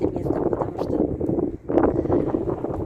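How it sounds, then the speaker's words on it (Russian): Strong wind buffeting a phone microphone on Mount Mithridat, a loud continuous low roar with a brief lull midway before gusting again. "очень сильный ветер"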